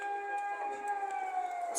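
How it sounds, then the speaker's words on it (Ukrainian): An air raid siren wails steadily, a sustained rising-and-falling tone heard at moderate distance, holding throughout without speech over it. "Ну, повітряна тривога."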